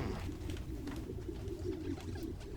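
Pigeons cooing in a city park in the Spider-Man Miles Morales video game, a low steady murmur of several birds heard continuously with no talk over it.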